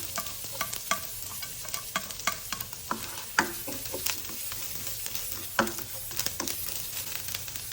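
Garlic and ginger sizzle in butter in a frying pan, a steady crackling fry punctuated by frequent scraping stirs of a utensil against the pan.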